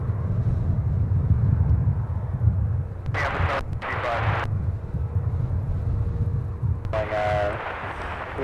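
A Delta airliner arriving from Tampa at Minneapolis–St. Paul airport, heard as a steady low jet rumble running throughout, with talk and radio chatter over the top.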